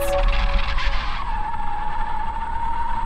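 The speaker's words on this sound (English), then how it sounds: "Investigate the grinding noise?" A harsh, continuous grinding screech in the video game Tattletail, with a steady high tone running beneath, loud and sustained from start to finish over low rumble.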